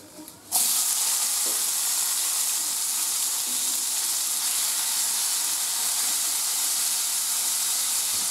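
Chopped tomatoes drop into hot oil seasoned with panch phoron and a dried chilli, setting off a sudden loud burst of sizzling that settles into a steady, close hiss.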